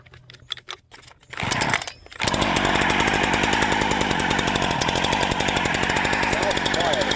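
A BlackMax gas chainsaw starts quietly with sputtering bursts, then revs up into a loud, steady, close-up buzzing roar that holds for several seconds.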